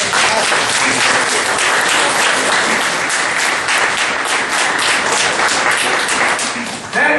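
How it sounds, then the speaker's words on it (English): Loud, dense applause from a gathered crowd at a public meeting about sewer rates, steady clapping throughout, tailing off slightly at the very end. "And we should applaud Judge Blackburn."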